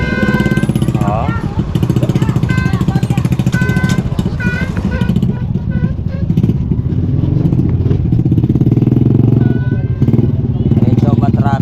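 Motorcycles squeezing past each other in narrow, congested traffic along a seaside road in Baseco, loud engine clatter and revving close by, with talk underneath.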